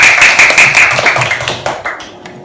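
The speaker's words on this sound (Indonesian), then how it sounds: "Ya, beri tepuk tangan untuk Eka." Classroom students clap for a classmate: a short burst of sharp, close hand claps with uneven rhythm, loud at first and thinning out as it fades over a couple of seconds.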